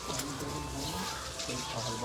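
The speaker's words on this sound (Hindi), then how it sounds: "सारे कबूतर हैं ना जोड़े।" Pigeons, high-quality Taddy birds kept in pairs, coo softly and continuously in a busy loft, the low murmuring blending with background chatter and ambient noise.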